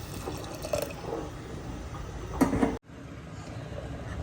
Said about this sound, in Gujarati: મેં અહીંયા જો ગરમ પાણી કરી લીધું છે, એ પણ થોડું નાખું છું